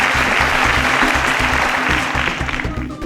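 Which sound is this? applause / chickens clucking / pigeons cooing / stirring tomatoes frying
applause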